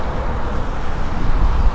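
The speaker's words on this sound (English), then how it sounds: "Pardon the wind today." Outdoor wind buffeting a microphone beside a 2021 Jayco Pinnacle 36FBTS fifth wheel RV, a steady loud low rumble with gusty swells and no voices.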